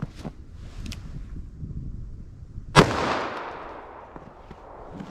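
A single sharp .44 Magnum revolver shot firing a Doubletap hard cast solid round cracks out at moderate distance, followed by a rolling outdoor echo and faint background noise.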